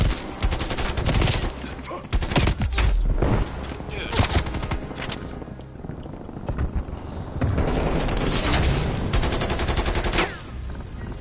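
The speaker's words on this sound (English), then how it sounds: "It's my grenade launcher." Grenade launcher firing in a PS4 shooter, loud bursts and booms mixed with rapid gunfire and explosions across the clip, with brief quieter gaps and some in-game voices.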